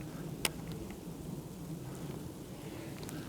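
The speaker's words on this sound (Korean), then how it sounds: "비하고 지금 뭐 쌀래기하고 섞여서 내려오는 거지." Rain mixed with sleet patters steadily outdoors in cold weather at a fishing spot, a soft and even hiss with a few sharp ticks of pellets striking nearby, faint and with no talking.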